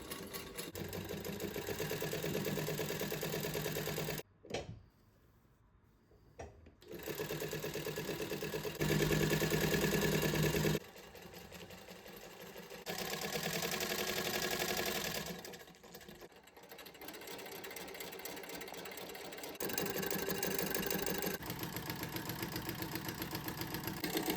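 A Singer 31-15 industrial sewing machine runs on a motor, stitching through scrap denim with a steady mechanical whir and rapid needle clatter, stopping and restarting several times with short quiet pauses between runs.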